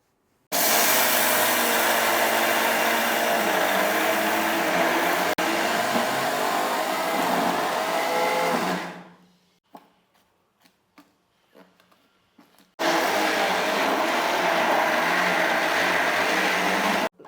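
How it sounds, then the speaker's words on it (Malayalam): A mixer grinder grinds soaked rice with leaves, giving a loud, steady, close whirring roar for about eight seconds. It then stops, with a few clicks and small knocks in the pause, before starting up again at full power. "ആദ്യമേ നമുക്ക് ഇത് കുതിർത്ത് വെച്ചിരിക്കുന്ന അരിയും ഇലയും കൂടി അരയ്ക്കാം"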